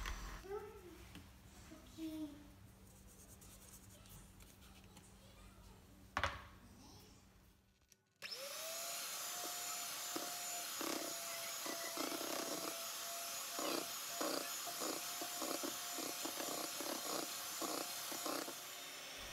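Electric mixer whirring steadily on its lowest speed through marble cake batter, a continuous close hum with repeated soft pulses, following a quieter stretch before it starts.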